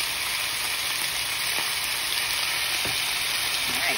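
Chicken and vegetables for pancit sizzle and fry steadily in a hot pan, a dense continuous crackle close up with a few faint clicks and no talking.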